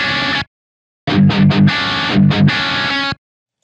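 A gritty, distorted, pitch-shifted guitar plays a harsh, clashing dissonant chord, with a short burst, a pause, then a longer passage with pulsing accents.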